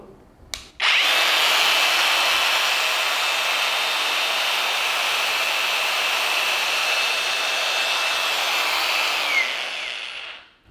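A Vrill VAG2100 cordless brushless angle grinder clicks on and spins up to a loud, steady high-pitched whine, runs unloaded for about nine seconds, then winds down, heard close with no voices.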